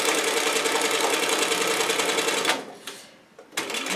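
A sewing machine runs a loud, steady stitching whir around the curved head seam of a stuffed cat toy, pausing briefly near the end and then starting again.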